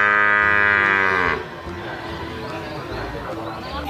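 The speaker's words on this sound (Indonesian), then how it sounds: "Lihat, di sini ada kerbau" A Toraja water buffalo gives a loud, drawn-out low call for over a second, then it fades into rustling background noise.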